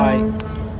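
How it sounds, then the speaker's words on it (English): A boat's foghorn sounds just before departure, a loud, steady, low droning blast that slowly fades. "that's the foghorn suggesting yeah, it's about to depart"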